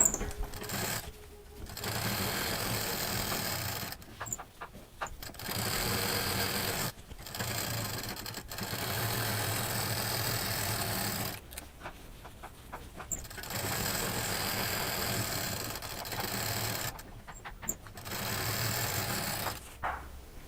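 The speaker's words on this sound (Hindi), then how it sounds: "बाकी यहाँ से डबल मशीन चलाते हुए पूरा इस तरह से सिलते हुए यहाँ आएंगे और इतना ये हिस्सा सिल देंगे" A double-needle sewing machine stitches a quilted patchwork sling bag, running in long steady stretches broken by short pauses, close and continuous with no voices.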